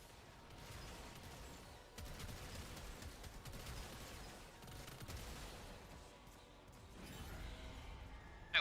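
Rapid gunfire from target shooting in the video game Warframe, dense bursts of shots running almost continuously with brief lulls, fairly faint and heard without talk.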